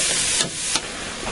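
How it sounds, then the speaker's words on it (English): Onion and garlic frying with browning sausage in a pan for Italian sausage soup, giving a steady close sizzle and hiss throughout with brief louder bursts of spatter, and no talking. "I have 1 large onion here and 2 cloves of garlic I'm going to dump in here and fry them in with the sausage"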